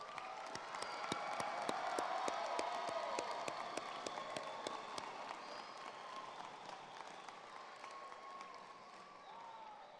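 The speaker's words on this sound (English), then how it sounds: "Let's give our amazing graduates one more huge round of applause." Graduates at a high school commencement ceremony receive a long, steady round of applause from a large crowd, with scattered cheers and sharp claps, gradually thinning toward the end.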